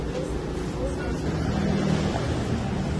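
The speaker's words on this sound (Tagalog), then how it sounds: "Ngayon, nasa tabing dagat tayo." Sea waves at the seashore make a steady, loud roar and wash with gusting wind buffeting the microphone, continuous throughout, with a voice faintly under the noise.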